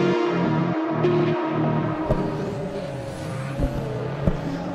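Drift cars on the Croix-en-Ternois race track during a tandem battle, with engines revving and roaring as they brake and accelerate close together, loud and continuous with sharp pops.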